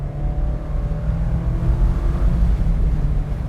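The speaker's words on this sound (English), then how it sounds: "That 2-liter 4-cylinder that sits under the hood is simply amazing." A 2025 Mazda MX-5 Miata ND3 GT with a 2-liter four-cylinder drives along a back road, its engine a steady, loud, low drone with a gentle rise in revs, heard alone.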